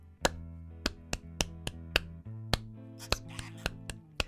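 Group clapping a counted rhythm together in a guitar lesson on subdivisions: a run of about fourteen sharp, close claps in a steady two-bar pattern, ringing over a sustained low tone.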